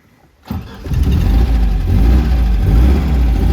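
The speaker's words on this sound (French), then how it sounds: "Alors, je vous démarre la voiture." A blue 1973 MGB with overdrive cranks over and catches after a brief silence, then settles into a steady, loud, close four-cylinder idle with a deep low rumble.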